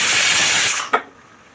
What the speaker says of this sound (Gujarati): તો આપણી આવા છેલ્લી સીટી છે